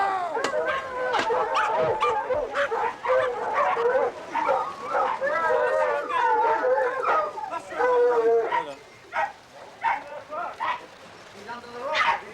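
Hounds on a mink hunt by a river bark and yelp excitedly in a continuous, overlapping chorus, with some howls and whimpers, fairly close and loud.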